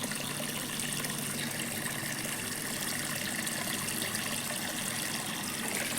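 Water pours steadily over grain being washed in a vessel, a continuous gushing splash at moderate distance with no talking.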